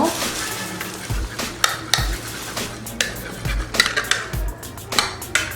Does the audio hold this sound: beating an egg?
yes